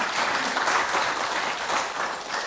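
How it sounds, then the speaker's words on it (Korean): A Korean church congregation gives a round of applause during a Sunday worship service, a steady, full burst of many hands clapping together at close range, with no voices over it. "수고하신 분들께 박수 한번 하십시다."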